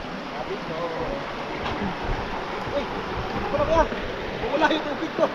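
Calantas river flowing outdoors, a steady broadband wash of moving water with a few louder surges near the end, fairly close, mixed with faint background voices.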